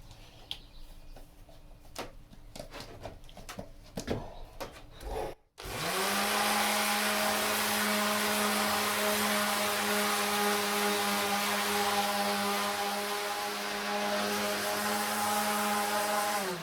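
A power sander with 60 grit sandpaper works a kitchen worktop, starting abruptly after some light knocks and running as a loud, steady motor whine with a constant droning hum to the end.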